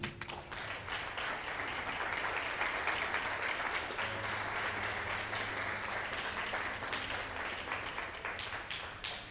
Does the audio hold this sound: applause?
yes